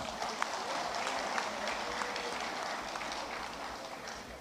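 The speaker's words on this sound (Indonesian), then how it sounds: "Tepuk tangan dong untuk beliau." Applause from the audience for a guest at a Golkar party event, a steady spread-out patter of many hands at moderate distance, continuing without a break and without voices.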